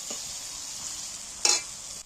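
Spices with chopped green chillies sizzle steadily in a pan, with a couple of brief stirring scrapes over the even frying hiss.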